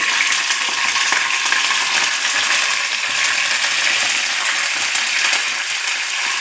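Mustard seeds, cumin and curry leaves fry in hot oil for an okra stir-fry, giving a steady, close, crackling sizzle with scattered pops, heard alone without talk.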